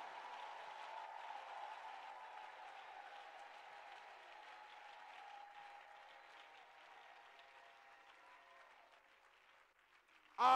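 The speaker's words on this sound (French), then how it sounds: "Acclamez la parole de Dieu" Congregation at a church retreat applauding, a sustained patter of many hands clapping from a moderate distance that slowly thins out, followed by a brief loud sound at the very end.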